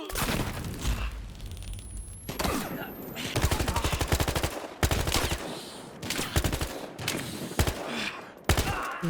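Rapid, loud bursts of gunfire from the video game Battlefield Hardline, with sustained automatic volleys and single cracks coming close together throughout, alone with no speech.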